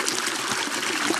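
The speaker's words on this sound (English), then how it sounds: "And here's the flow of the water." Stream water flowing and gurgling at a ranch crossing, a steady broadband rush and trickle heard close and continuous throughout the short stretch.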